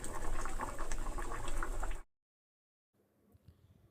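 Moong dal bubbles at a full boil in a pot for two seconds, a dense close gurgle, then cuts to silence before a faint quieter simmer returns.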